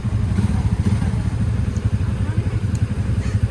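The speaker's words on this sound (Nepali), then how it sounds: "स्टार्ट गर्दैछ बाइकहरू ल" Several motorcycles starting and idling at once before a mountain trek in Nepal, a steady low engine rumble with uneven chugging pulses throughout, close and fairly loud, with voices in the background.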